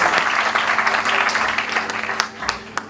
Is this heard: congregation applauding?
yes